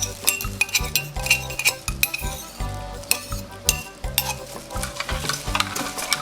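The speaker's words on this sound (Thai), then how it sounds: "คนให้หมดนะคะคนจนด่างละลายหมด" A utensil stirs lye solution in a container while the lye dissolves during homemade shampoo making. The stirring is steady and close, with scraping, sloshing and occasional clinks against the vessel, and no one talks.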